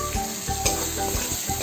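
Fried potatoes go into a pan of mutton mince masala and sizzle steadily, with several soft scraping stirs and light clatter nearby.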